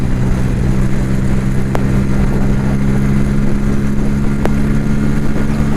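A Bajaj Pulsar N160 motorcycle engine runs close by with a steady, loud mid-pitched drone and a constant rumble, holding an even note throughout with no talking.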